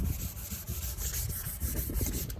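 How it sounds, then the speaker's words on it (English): Close, steady gritty rubbing of sandpaper on a plastic car headlight with water added, rhythmic back-and-forth strokes with a wet, rasping texture and no talking. "while you start sanding, you're going to want to add water as you go along"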